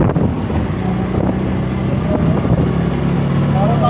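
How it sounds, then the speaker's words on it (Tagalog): Strong wind roars steadily against the microphone during a tuktuk ride on the Villa Verde Trail in Pangasinan, a loud continuous rumble with engine drone underneath and people talking over it. "Malakas pa ang hangin"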